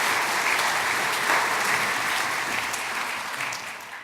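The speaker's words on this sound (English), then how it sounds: "let's give Mr. Sussman a big round of applause" A room of attendees at a jury improvement luncheon gives hearty applause, a thick continuous patter of many hands that holds steady and then begins to taper off at the end.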